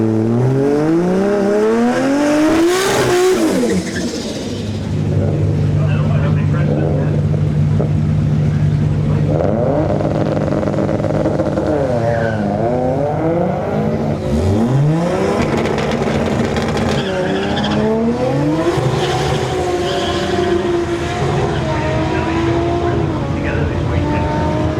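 A drag racing car makes its run at a street racing weekend, a loud engine roaring and revving through rising gear sweeps, then fading into distant engine noise with other vehicles and crowd murmur around.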